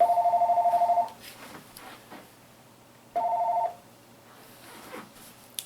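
A telephone rings indoors in two bursts of a repeating electronic trill, the first about a second long and the second shorter after a quiet gap, loud and close with no talk over it.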